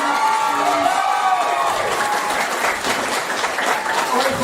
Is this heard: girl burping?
no